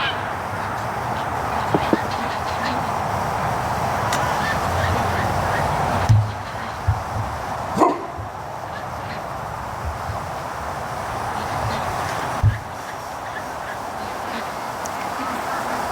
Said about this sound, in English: geese just lost it